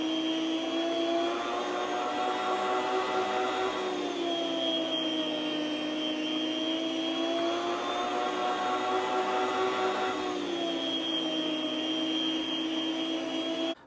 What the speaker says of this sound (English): you just let the blade do the work. It does a really good job on the ham